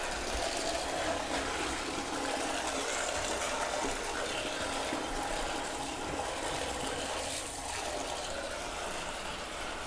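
Tap water runs steadily into a strainer of vivarium substrate as it is rinsed and stirred, a constant broadband hiss that stays loud and unbroken throughout.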